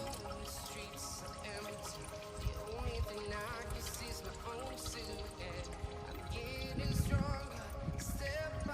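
Motor oil pours and trickles steadily from a Nissan Z32 300ZX during an oil change, with wind blowing the stream about, a continuous liquid splatter running throughout, a louder gush near the end, and a voice talking over it.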